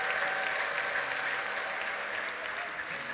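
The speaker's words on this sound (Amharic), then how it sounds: "ስለዚህ ጌታ ከፍ ያለ እልልታና ጭብጨባ እንሰጣለን።" Church worshippers break into sustained applause mixed with ululation, a dense continuous wash of clapping that fills the space and fades slightly toward the end.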